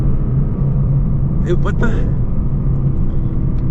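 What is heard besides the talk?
Lexus LC500 engine revving, transmission failing to upshift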